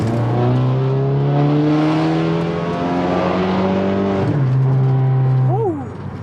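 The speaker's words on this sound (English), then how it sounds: "This is gonna be the first wide open throttle hit since the oil issue." A Stage 2 Audi A3 pulls hard at wide open throttle, its engine note climbing loud and close through a long rising sweep, then a quick shift and another rise before easing off.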